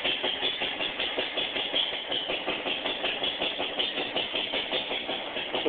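A big Witte 15 horsepower electric-start hit-and-miss engine runs on hydrogen in a shop, chugging in a fast, steady rhythmic beat of repeated firing pulses, close and fairly loud with no talking.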